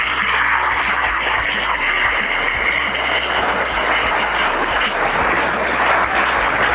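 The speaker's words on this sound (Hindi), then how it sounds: "जोरदार तालियों से आप इनका स्वागत करें।" An audience at a school function applauds to welcome a visiting district police superintendent. The clapping is loud, dense and steady throughout, with a faint low hum underneath.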